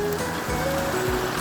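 Water flowing in Elk Creek, a steady rushing wash of the stream in the woods, fairly close and continuous, with a few low thumps on top.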